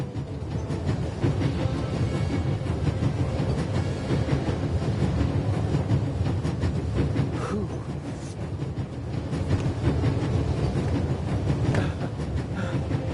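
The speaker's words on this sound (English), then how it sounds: "There's nothing quite like traveling on a train." Steady rumbling train ride in The Raven Remastered video game, a continuous low rolling drone with clickety-clack rhythm of railroad cars running throughout, fairly loud and close with no voices.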